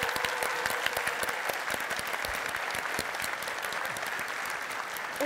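An audience applauds award winners at a Yrkes-SM 2024 vocational skills championship prize ceremony, with many distinct hand claps in a full, steady ovation that holds throughout and is not covered by any speech.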